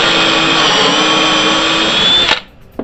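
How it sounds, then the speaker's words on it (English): A power drill fitted with a sharp bit bores into a framing jig: a steady, loud motor whine with a grinding edge runs unbroken for about two seconds, then cuts off, leaving a faint clunk. "Now I'm going to take my drill with this real sharp bit in it, and I'm going to slip it in there and drill"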